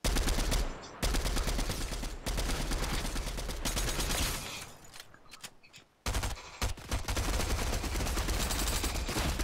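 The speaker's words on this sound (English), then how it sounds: "when you get shot from behind" Rapid bursts of automatic gunfire in the Fortnite video game on Xbox, loud and dense, with brief gaps between volleys and a pause before the shooting resumes, with no voices.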